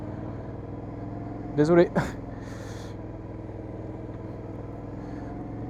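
An Aprilia Shiver 900 motorcycle with its stock exhaust runs on the road, giving a low, steady engine rumble that stays even and fairly quiet throughout. Someone says a brief word partway through.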